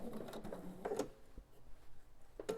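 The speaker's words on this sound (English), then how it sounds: "slowly sew the length of this seam" Sewing machine stitching slowly along a quilt seam for a Tummy Time All Star baby quilt, guided with a stiletto; a steady close mechanical whir with short bursts and brief pauses, no talking.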